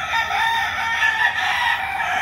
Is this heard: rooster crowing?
yes